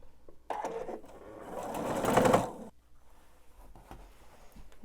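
A sewing machine stitches a table runner seam in a single steady run of about two seconds, building to a loud, dense whir before stopping, with quieter handling noise around it and no talking.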